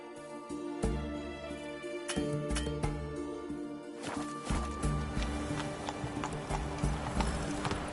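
The horse Roach's hooves clip-clop steadily in a PS4 video game, a close, rhythmic walking beat of hoof strikes over a faint ambient bed, with a brief whinny-like sound.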